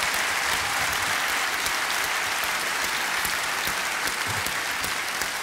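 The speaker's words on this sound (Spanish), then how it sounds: "un aplauso, por favor" Theatre audience at a live music show applauds a maestro pianist, a steady, full wash of clapping from a large crowd that holds evenly throughout.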